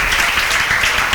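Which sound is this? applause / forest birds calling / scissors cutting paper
applause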